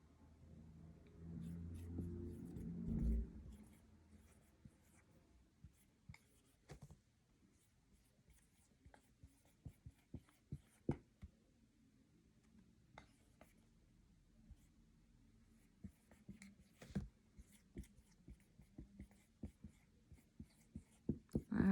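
A pen or marker scratches out a math problem by hand in sparse, faint strokes and taps, with a short rustle early on and quiet pauses between marks.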